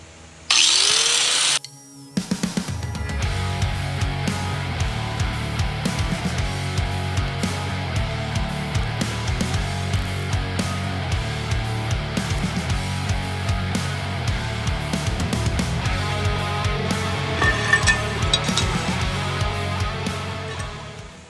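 Power tool grinding through a pressed-on axle bearing collar on a 1979 Ford F150 9-inch rear axle, a loud continuous whine with a brief pause near the start, then sustained cutting with shifting pitch.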